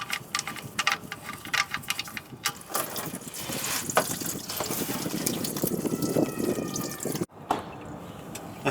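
Motor oil drains from the drain plug of a 2013 Lexus IS250, a steady liquid pour and patter with scattered drips and clanks, close and moderately loud.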